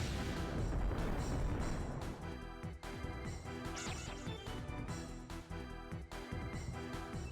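A Hyper Cannon attack in Digimon World 2 bursts out as a loud, dense blast of booming, crashing game effects laid over backing music, running for several seconds with pulsing hits and no talk.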